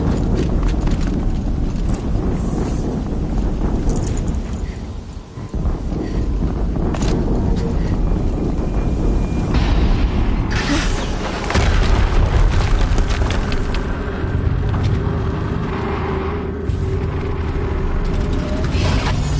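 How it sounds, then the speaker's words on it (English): Rumbling explosions and heavy booms from combat in the video game Horizon Zero Dawn, played on NG+ Ultra Hard, a loud continuous roar with bursts and no speech over it. "Another explosion."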